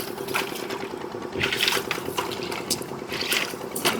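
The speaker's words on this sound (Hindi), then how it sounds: "ये देख सकते हैं आप, ये है हमारी सतलुज नदी।" Water of the Sutlej river in Himachal Pradesh rushes and gurgles steadily near the Kandrour bridge, a continuous broad wash with a few louder surges.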